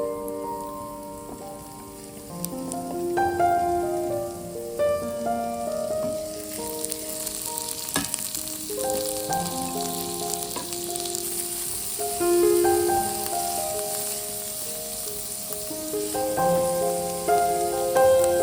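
Garlic and onions frying in a pan, a continuous sizzle beneath prominent background music, growing louder and busier after a few seconds as the onions go in.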